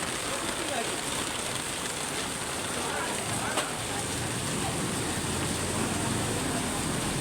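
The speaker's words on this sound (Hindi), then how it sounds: "आप ये देखिए बारिश कैसी हो रही" Heavy rain pours down outdoors in a steady, dense broadband wash that lasts throughout, with a faint background hum and no clear talk.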